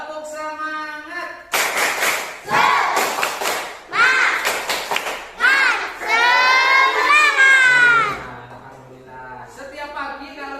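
Schoolchildren in a classroom perform the tepuk semangat clapping chant: bursts of sharp rhythmic claps alternate with loud sung and shouted chant lines, led by an adult voice.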